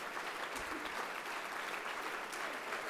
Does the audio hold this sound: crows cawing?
no